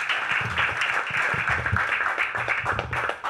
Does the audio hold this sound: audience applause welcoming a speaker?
yes